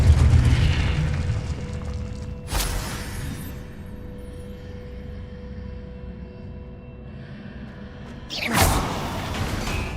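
The Confringo explosive spell goes off in Hogwarts Legacy as two sharp booming blasts, one early and one near the end, each a burst that fades into a low hum, with no talk in between.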